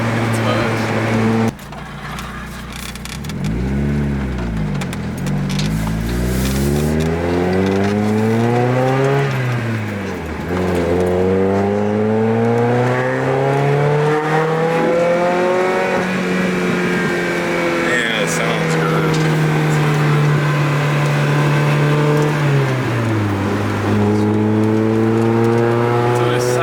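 A 2022 Subaru BRZ engine on a race track revs loud and close, its pitch sweeping up through the gears and dropping on shifts in repeated climbs for about half a minute, with people talking over it.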